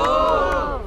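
A crowd cheers and shouts with raised hands at a rap battle final, a loud, dense burst of massed voices with whoops rising above it, fading slightly at the end.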